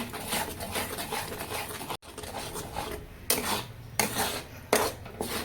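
Boiled egg curry being stirred in a pan over a gas flame, a spoon scraping and clinking against the pan in a few uneven strokes, close and fairly quiet, with no talking.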